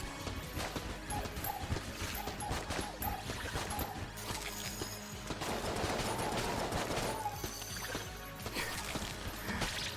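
Rapid automatic gunfire from a shell gun in the video game Enter the Gungeon, busy and dense, with a steady stream of shots laid over game music and mechanical clatter.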